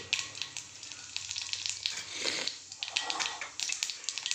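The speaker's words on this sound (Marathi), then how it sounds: "फोडणी पण तडतडली आहे" Cumin seeds tempering in hot oil in a pan crackle and sizzle, with a constant hiss broken by many quick, close popping spatters.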